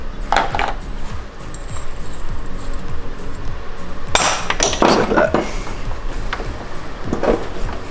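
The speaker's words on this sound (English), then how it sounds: "I'm just kind of taking a flathead screwdriver and wedging it like this and kind of popping it." A flathead screwdriver pries protective caps off the tensioners on a BMW E92 M3 during a pulley kit install, giving sharp metallic clicks and clinks in a few bursts over steady workshop background noise.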